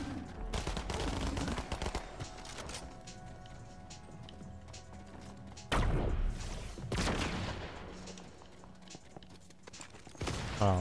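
Video game gunfire crackles in repeated rapid bursts, loud and close, with heavy volleys near the start and middle and scattered shots between.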